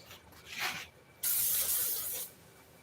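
Brake cleaner hisses from an aerosol can while cleaning glue during a four-wheeler seat recovering job: a short faint spray burst, then a louder, steady hiss lasting about a second before cutting off.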